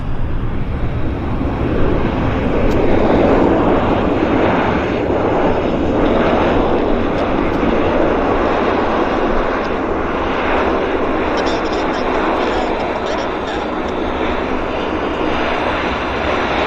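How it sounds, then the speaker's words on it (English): A United Airlines Airbus A320 arriving from Denver drones steadily on approach to Vancouver Airport. The broad, loud engine rumble continues for the whole stretch, with some talk present. "we've got this United Airlines on approach now. It's an A320 from Denver."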